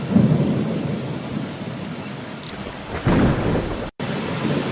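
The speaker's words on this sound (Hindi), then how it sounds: "बारिश अब भी रुकने का नाम नहीं ले रही थी" Steady rain pours down with a broad hiss, broken by a rumble of thunder and a brief dropout near the end, no voices present.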